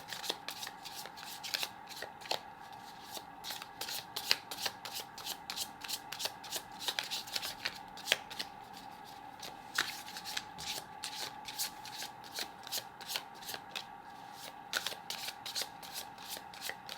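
Tarot cards being shuffled continuously by hand for about seventeen seconds, a dense run of soft riffling flicks and taps, close and quiet over a faint steady background hum, with no talk.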